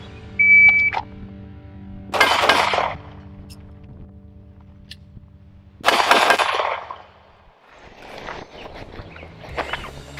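Gunshots fired at a TDI challenge plate target during a shooting drill: a timer beep, then a loud shot, a pause, a second shot after a reload, and fainter clatter afterward.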